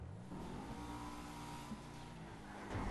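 A fast car engine roars steadily in Grand Theft Auto Online, a continuous loud drone with a slight rise near the end and no talking over it.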